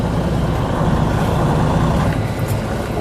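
A vehicle engine pulls forward slowly in second gear, a steady, loud low rumble that holds even throughout with no voices.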